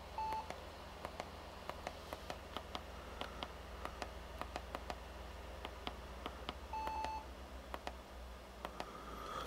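A computer emits short, sharp electronic beeps at irregular intervals while booting, faint against a steady hum of background noise.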